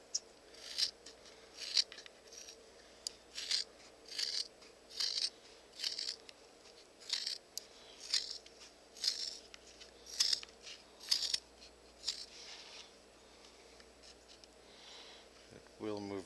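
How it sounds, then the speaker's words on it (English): Scissors snipping through soaked, pliable rawhide while cutting a shaker shape, a steady series of quiet close crisp cuts at roughly one-second intervals in a hushed room. "Then you cut your basic shape of a shaker in."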